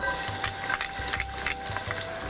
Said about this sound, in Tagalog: igigisa na natin kay mantika, bawang